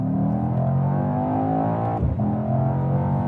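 A performance estate car with a 9-speed gearbox accelerates steadily, its engine note holding a smooth, rising drone with a brief dip partway through, close and continuous with no voices.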